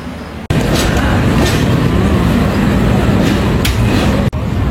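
Tirumala Express passenger train running out of Vijayawada, heard from inside a coach as a steady, loud rumble and rattle of the carriage on the rails, continuous throughout with brief dips near the start and end.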